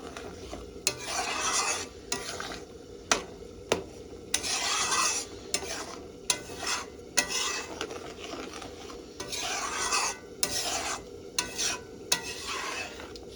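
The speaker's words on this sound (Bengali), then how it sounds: "সসটা আমি লেড়ে দেবো।" A spoon stirs tomato sauce with butter for Italian pasta in a pan on a gas flame, making repeated scraping strokes in uneven bursts over a soft, steady background.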